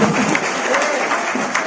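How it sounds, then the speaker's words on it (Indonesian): Applause from a crowd at a celebration for a politician in Bali, steady clapping filling the short moment, with a few voices mixed in. "tepuk tangan."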